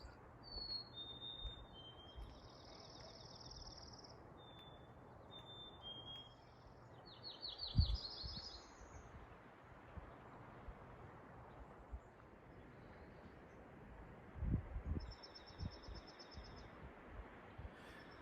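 Faint high bird calls and chirps repeating at intervals over soft wind noise outdoors, with a couple of low thumps nearby.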